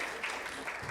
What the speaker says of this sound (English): give a round of applause for all of y'all.